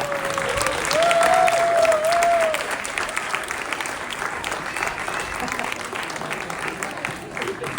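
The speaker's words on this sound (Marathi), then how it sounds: "जोरदार टाळ्या मंडळी या सर्व कलाकारांसाठी." An audience at a Shivjayanti celebration in Munich gives a sustained burst of clapping for the full cast of a Marathi historical drama. The applause swells early, then holds a steady, crowded patter to the end.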